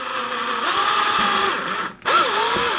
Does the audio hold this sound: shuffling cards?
no